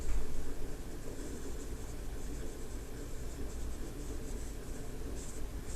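Pencil drawing on paper in an art studio club session makes a soft, continuous scratchy scraping, quiet and close, with light strokes varying slightly over a low background hum.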